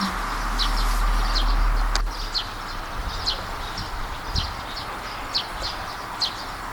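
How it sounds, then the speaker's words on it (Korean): Birds chirp in short repeated bursts at a moderate distance over a steady outdoor background hiss, with one sharp knock early on. "새소리가 들리네"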